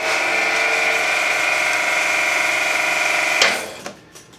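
An EAM-Mosca ROMP-4 strapping machine runs a steady, loud mechanical whir as its threading gate feeds strap up into the head. It ends in a sharp clack and a few fading rattles.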